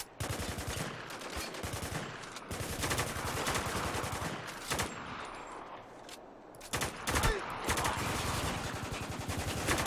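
Dense automatic gunfire and rapid shots in the war shooter game Spec Ops: The Line, loud sustained bursts with brief pauses and sharp single cracks between them.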